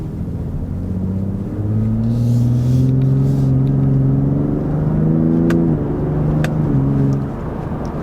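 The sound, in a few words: 2023 Ford F-150 Raptor engine accelerating and revving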